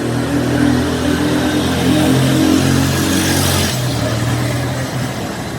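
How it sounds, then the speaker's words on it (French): A big motorcycle engine revs nearby in a residential quarter of Bassam, holding a loud rough drone whose pitch steps up and down in several stages over a few seconds. "Arrête ta grosse moto là."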